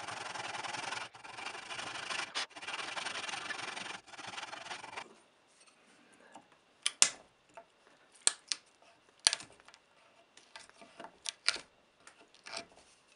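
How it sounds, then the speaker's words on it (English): Hand saw cutting through wood while shaping a ball head war club: a steady run of rasping strokes, then a pause followed by sparse, sharp scraping and tapping sounds, close and fairly quiet. "Now another saw cut to release the other pieces."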